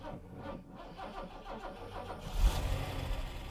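Six-cylinder car engine running steadily at a quiet, even idle nearby, then swelling slightly louder toward the end, with no talk over it.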